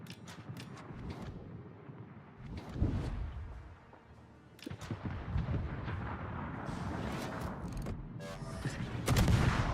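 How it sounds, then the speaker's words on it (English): Warship guns fire in the World of Warships naval combat game: a few heavy, booming salvos land at irregular intervals over constant rumbling battle noise. "Since these guys are both looking the other way, I might as well open up with my guns."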